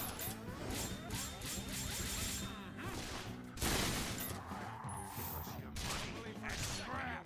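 Gunfire and a burst explosion in the Resonance of Fate game: rapid rattling shots and crackling bursts run throughout, with a loud blast near the middle, while a person talks over it.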